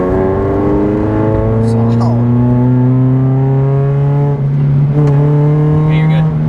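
Subaru BRZ track car fitted with an EL header exhaust revs loudly and steadily close by, its droning engine note rising slowly in pitch across the clip, with brief clicks and bumps along the way.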